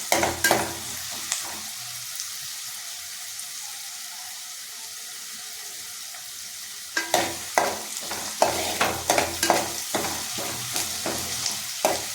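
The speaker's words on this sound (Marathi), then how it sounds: "आता आपण कढीपत्ता टाकू. छानपैकी परतवून घ्यायचं." Curry leaves crackle in hot oil for a masoor dal amti. A loud burst of sizzle and spoon clatter opens, then a quiet sizzling stretch, then renewed stirring with rhythmic scrapes and knocks against the pan, close and without speech.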